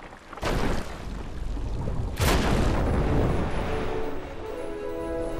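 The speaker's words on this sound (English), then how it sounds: "it was a warning shot" A loud warning-shot explosion from Final Fantasy XII: The Zodiac Age during the Rafflesia boss battle, two heavy booming blasts about two seconds apart over a sustained rumbling game soundscape.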